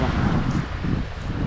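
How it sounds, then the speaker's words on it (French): Wind gusting straight into the microphone outdoors in sandy terrain, a steady low buffeting roar with rumbling bursts that holds loud and close throughout, no voices. "Ah mais ça y est, il y a du vent."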